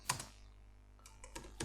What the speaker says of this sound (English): Just click Alt-G on your keyboard